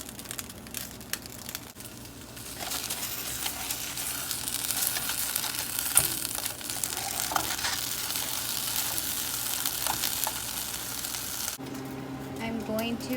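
Chiles for roasted salsa verde roast in a hot pan, a steady crackling sizzle that holds at moderate loudness with occasional pops and shifts. Near the end there is a brief clatter, as if the chiles are moved.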